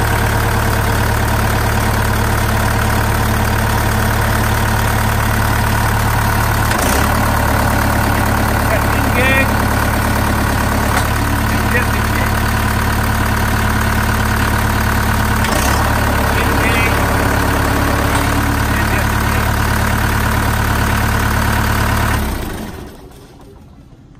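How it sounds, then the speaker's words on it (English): The engine on a Keene 4-inch gravel pump idles in a loud, steady, close-up mechanical drone with a regular pulse, and someone speaks over it before the engine cuts off near the end. "you can start your engine and run the motor and get your compressor working"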